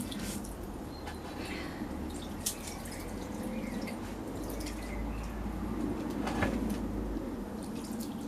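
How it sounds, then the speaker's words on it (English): Water trickles and drips from a hand onto potted tomato plants inside a polytunnel, a quiet, uneven patter and splashing over low background rumble, with no one speaking. "I'm just going to trickle the water over my hand"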